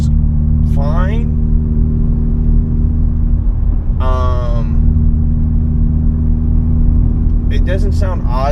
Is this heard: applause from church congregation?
no